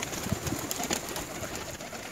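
Soft pigeon coos sound at a short distance during flight training as the birds come down to land, a few low calls over quiet outdoor background without talk.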